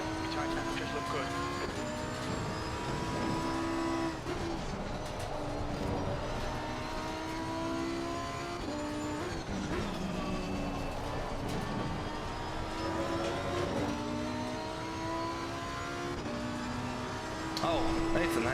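A Lamborghini engine in a racing video game at Brands Hatch drones steadily through gear changes over a long stretch, with someone talking throughout.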